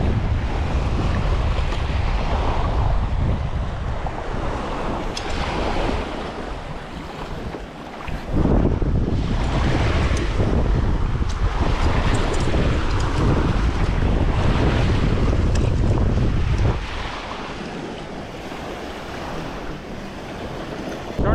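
Strong wind gusting over open water by a boat on the Mississippi coast, heavy steady roar with wind buffeting the microphone and waves washing beneath, easing slightly near the end.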